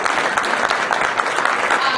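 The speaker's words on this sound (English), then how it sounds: "if we could just clap for them and maybe they'll hear" Steady applause from an audience at a cystic fibrosis education event, clapping for supporting vendors; many hands make a dense, even patter that holds throughout at moderate volume.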